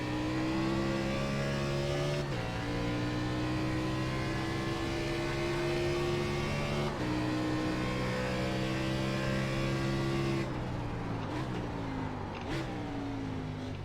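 Race car engines from the iRacing video game at the Charlotte Roval drone steadily at high revs, with brief pitch drops at shifts and a shift in tone near the end as cars bunch together.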